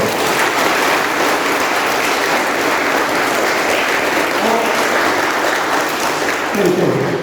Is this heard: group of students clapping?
yes